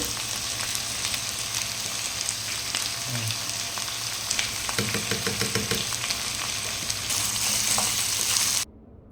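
Mutton bones sizzle and fry in a pan with ginger garlic paste, a continuous crackling hiss with some stirring clatter midway, close and moderately loud.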